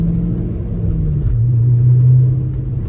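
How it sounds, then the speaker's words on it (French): Inside a 1996 Audi S6 Plus Avant on the move, a loud, deep engine drone fills the cabin with steady low rumble and a shifting tone as the revs change. "Là je suis même pas à 50 km/h et le bruit suggère une voiture, enfin une vitesse beaucoup plus élevée"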